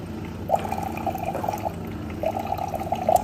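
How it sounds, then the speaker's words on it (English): Water pours from a DC Life Pro Max water machine in a soft, close trickle, running in two short streams with a brief break between them. "pull out our water from DC Life Pro Max, instant production"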